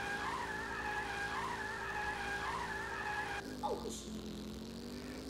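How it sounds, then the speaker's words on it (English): Sustained tire squeal from a drifting kart in the racing game All-Star Fruit Racing runs steadily over a humming engine, ending in an abrupt change to a lower engine tone that swoops and settles. "I'm just going to whip it around the whole corner."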